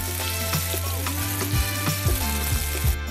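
Vegetable flatbreads with nuts and coriander frying in oil on a hot pan, a steady close sizzle with occasional light taps of a utensil.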